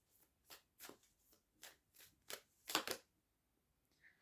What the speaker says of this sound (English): I'm actually going to shuffle.